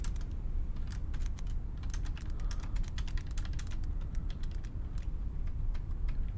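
Rapid, irregular clicking of keys being typed on a computer keyboard, steady and close, over a low background hum with no voices.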